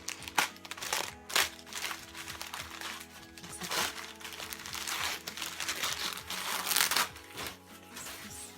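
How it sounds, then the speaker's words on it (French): Bubble wrap crinkles and crackles close up as a swap parcel is unboxed, in irregular bursts of crunching plastic with no talking. "le papier bulle"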